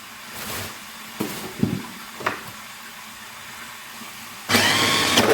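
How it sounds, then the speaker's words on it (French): A blender whirs into action on onions and green onions, starting abruptly near the end as a loud, steady buzzing roar after a few quieter knocks and handling sounds. "Et on va mixer le tout."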